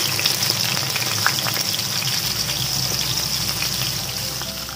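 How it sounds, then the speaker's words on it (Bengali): Fish heads frying in hot mustard oil give a steady, loud, close sizzle that holds without a break from start to finish, with no talking. "সর্ষের তেল, এই তেলে মাছের মাথাটা ভেজে তুলবো।"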